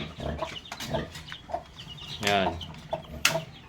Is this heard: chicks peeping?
yes